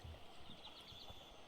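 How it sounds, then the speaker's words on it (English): Wet, squelchy footsteps in Heaven's Vault, a few soft irregular steps that sound close and faint. "Oh, I do not like that sloppy footstep noise at all."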